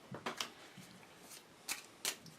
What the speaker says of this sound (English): shuffle them back into the action deck